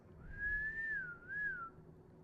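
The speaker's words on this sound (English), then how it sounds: "She kind of like whistles" A person whistles a clear, sustained note that glides slightly upward, breaks briefly, then returns for a shorter second phrase, soft and close in a quiet room.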